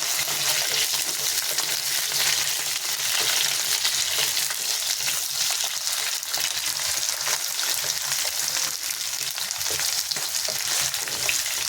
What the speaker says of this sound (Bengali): এগুলো বেশি লাল করে ভাজবো না, মিডিয়াম ভাজবো।